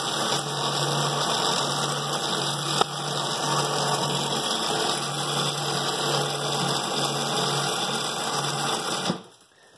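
An electric ride-on toy car's motor runs with the gas pedal pressed, giving a steady, close whining hum with a faint tonal buzz for about nine seconds before it cuts off abruptly.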